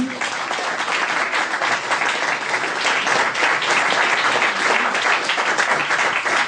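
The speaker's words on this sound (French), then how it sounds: "Et ensuite Vincent Violette, qu'on peut applaudir bien fort aussi." Steady, dense applause from an audience at a French TV-series fan convention, greeting a voice actor as he is introduced; loud, continuous clapping throughout with no break.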